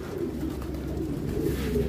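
Domestic pigeons on a pigeon farm keep up a steady, close run of low cooing and murmuring, dense and continuous throughout the short stretch.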